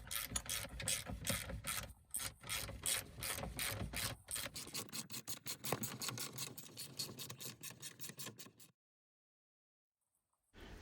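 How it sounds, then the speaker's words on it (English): A ratchet wrench tightening 18 mm bolts on the lower control arm of a 2001 Buick LeSabre, rapid close clicking in quick repeated bursts, then silence and a brief final click. "Get your wrench and your 18 millimeter and start tightening them up"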